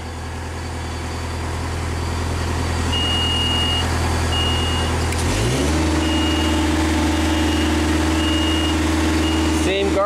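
A Genie lift with a no-reverse drive fault starts up, its steady motor drone shifting to a higher, louder hum midway while faint intermittent beeps sound over it.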